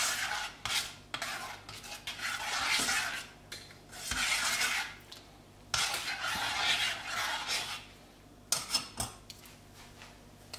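A spoon or spatula stirs gelatin into a chocolate mixture in a bowl without a whisk, giving bursts of scraping and clinking against the bowl separated by short pauses, close and alone.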